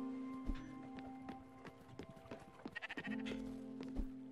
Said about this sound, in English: I hate these sheep so much.